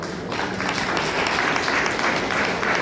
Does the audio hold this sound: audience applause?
yes